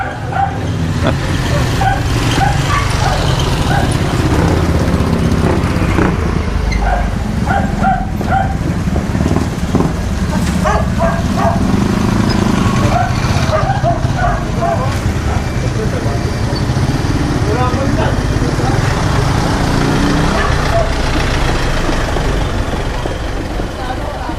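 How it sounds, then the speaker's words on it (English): A small dog barks repeatedly in short yips from a little way off, mixed with street traffic and people talking nearby in a busy Angeles City, Philippines roadside scene. "The dog's always barking."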